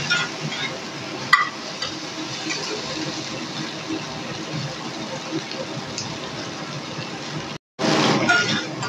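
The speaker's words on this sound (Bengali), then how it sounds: "দেখুন মশলা থেকে কিন্তু তেল ছাড়তে শুরু করেছে, তো ভালো করে কষিয়ে নিতে হবে।" Masala frying in a pan for a mourala fish curry, oil separating as it cooks: a steady close sizzle with faint stirring and one sharp clink, a brief cut to silence near the end, then sizzling again.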